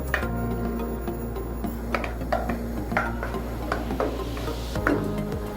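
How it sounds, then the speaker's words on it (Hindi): Garlic cloves fry in a pan over high heat, giving a steady soft sizzle with scattered light clicks and ticks of a utensil against the pan, moderately close with no talking. "3 कलियां थी मेरे पास गार्लिक की और इसे 20 सेकंड तक फ्राई करूँगी।"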